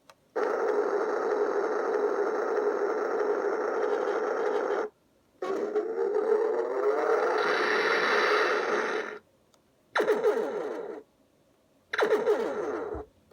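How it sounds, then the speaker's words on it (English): An old battery-powered toy plays its electronic phaser effect for blowing something up: a loud, buzzing synthetic tone running several seconds, then shorter bursts with falling sweeps, separated by silent gaps. "So that'd be the phasers blowing something up."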